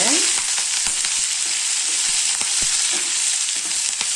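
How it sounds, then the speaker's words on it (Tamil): Curry leaves with small onions and garlic frying in a pan for chutney make a loud, steady sizzle with crackling pops and stirring scrapes, close up with no voices. "இப்போ இந்த கருவேப்பிலை போட்டுக்கலாங்க கருவேப்பிலை நல்லா வதக்கிக்கலாங்க"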